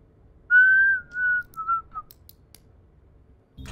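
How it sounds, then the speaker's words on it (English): Innocent whistling by a character in the horror video game Call of Cthulhu: a short tune of a few clear, sustained whistled notes, loud and alone, fading into quiet. "There's gonna be a lot of innocent whistling."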